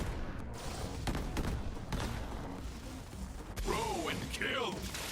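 Rapid gunfire from a weapon in Borderlands 3, a quick rattling burst of shots with mechanical clicks, followed by squealing, warbling weapon or effect tones.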